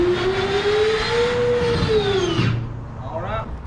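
A Beechcraft Baron B55 on an abandoned aircraft lowers its landing gear during a ground test: a loud, steady electric motor whine holds for about two and a half seconds, then cuts off, leaving softer mechanical rattling.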